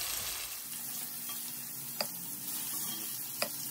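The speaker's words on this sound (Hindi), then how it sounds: "टमाटर फ्राई करने के बाद इन्हें एक प्लेट में निकाल कर रखना है।" Tomatoes frying in oil in a pan, a steady close sizzle with a couple of sharp pops and light utensil clicks, no voices.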